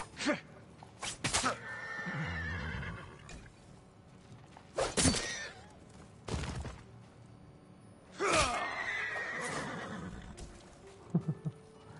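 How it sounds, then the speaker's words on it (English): Horses in the video game Ghost of Tsushima let out several loud, sharp whinnies and snorts, separated by quieter stretches with faint hoof and movement sounds. "Alright, stop murdering these horses."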